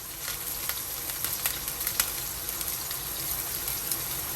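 Garlic cloves and thyme leaves sizzle in a hot pan alongside a T-bone steak: a steady, close frying crackle with scattered pops, no voices.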